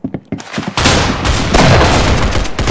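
The Z80 laser gun fires in the shooter game Arsenal. A few sharp shots crack out in quick succession, then a dense, continuous burst of rapid fire follows, loud and close.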